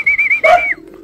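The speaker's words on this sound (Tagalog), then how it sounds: "Mukhang ito na mga kalapatids. Ito na si Tepu." A homing pigeon arrives back at its loft and gives a short, clear coo, a rising and falling throaty call heard close and alone, fading into quiet.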